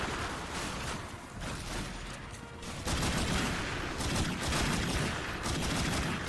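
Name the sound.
gunfire from the video game The Darkness II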